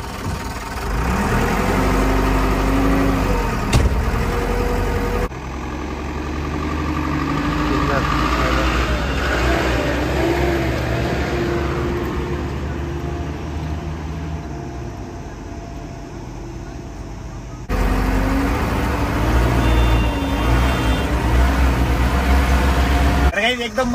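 A bus engine rumbles and idles steadily while being driven, with low droning and some revving changes throughout, and people talk over it at times.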